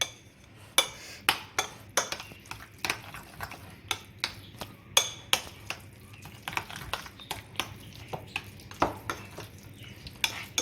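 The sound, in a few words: mixing cauliflower leaves with olive oil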